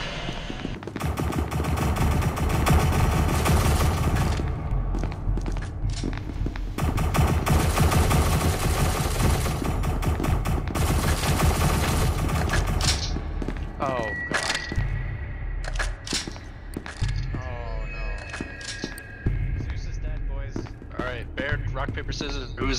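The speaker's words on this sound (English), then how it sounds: "Why are you shooting?" Heavy gunfire in the video game SCP: Secret Laboratory, with dense, sustained automatic bursts for the first stretch that thin into scattered shots and quieter game noise. Players talk over the shooting throughout.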